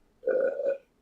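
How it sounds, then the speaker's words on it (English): A single loud, close burp lasting under a second, low and throaty, heard alone after drinking homemade moldy mead. "Excuse me, I got the burps."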